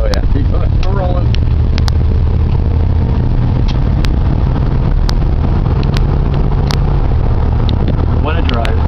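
A 1955 Buick Century cruises along with a steady low engine drone and road rumble throughout, while people talk over it and occasional sharp clicks and knocks punctuate the ride.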